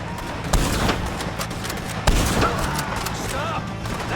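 Gunfire in Red Dead Redemption 2 gives two heavy, close shots about a second and a half apart, each followed by rumbling echoes under a busy roar of action noise.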